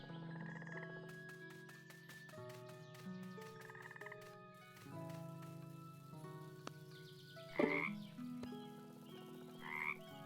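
Frogs croaking repeatedly in the FoxTail video game, a layered chorus of croaks over game music with clustered calls near the end.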